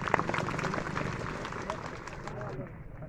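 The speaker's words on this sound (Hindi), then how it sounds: "तालियों की गड़गड़ाहट से उनका स्वागत और अभिनंदन करते हैं।" A crowd at a party workers' gathering claps in welcome, the applause fairly steady and dense, then tapering off toward the end under a hall's reverberant noise.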